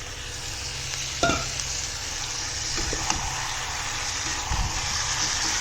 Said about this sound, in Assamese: হাঁহৰ মাংসখিনি মই ইয়াতে এড কৰি দিম এতিয়া।